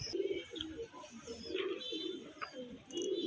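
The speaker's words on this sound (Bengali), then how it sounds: "এই হচ্ছে নর পায়রা" A male pigeon of Andhra bloodline coos in a loft, low rolling calls repeating in several bursts, fairly close, with faint chirps and background noise around them.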